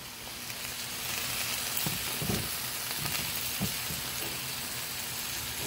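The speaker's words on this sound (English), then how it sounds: "This one here is searing pretty good." Pork chops sear in a hot pan with a continuous sizzling hiss that holds steady throughout, broken by a few soft knocks from handling, close and moderately loud.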